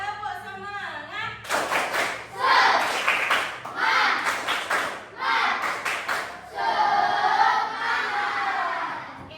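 A fifth-grade class of children claps together in patterned bursts while chanting loudly in unison, close and energetic.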